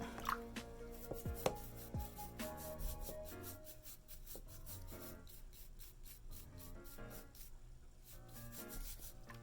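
A brush scrubs a child's foot during a home kids' pedicure wash, giving soft repeated rubbing strokes in a steady rhythm, close and fairly quiet, with faint splashes and clinks underneath.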